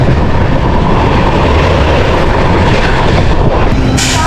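The Vivek Express passenger train rumbles loudly and steadily along the rails near Vijayawada station, a dense continuous roar with no break from start to finish.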